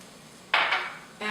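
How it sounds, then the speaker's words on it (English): Chopped onion and bell pepper dumped into a hot pan for a casserole, giving a sudden loud broadband sizzle that swells, dips, then resumes, with no talking. "So I'm dumping my onion"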